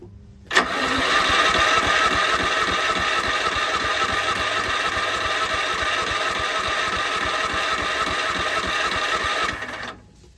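A lawn mower's starter cranks its engine in one steady, loud whirring run of about nine seconds, turning over without the engine catching, then stopping abruptly.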